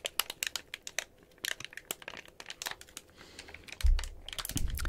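Crinkly plastic packaging from a comic convention haul is handled up close, with a rapid irregular series of sharp crackles and rustles, followed near the end by a low thump.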